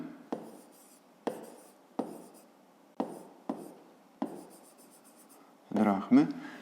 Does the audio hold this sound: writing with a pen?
yes